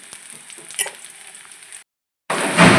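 Onions frying in a pan for a Maharashtrian dish, a close crackling sizzle that cuts out briefly, then returns as a louder, harsher hiss.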